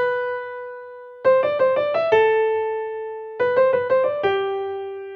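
The leader voice of Bach's Goldberg Variations, Variation 3, plays as a clear keyboard line. Long held notes alternate with two quick runs of short notes, bright and close, with no other sound.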